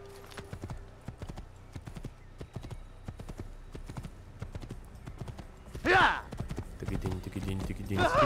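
Horse hooves clip-clop steadily in Assassin's Creed, a dense run of sharp knocks throughout, with someone talking over them and a horse neighing loudly twice near the end.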